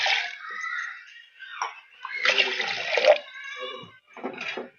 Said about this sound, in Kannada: ಈಗ ನೀರು ಹಾಕೋಣ.